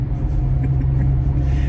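A manual-transmission car accelerates and skips gears, its engine a loud, steady low rumble up close from start to finish.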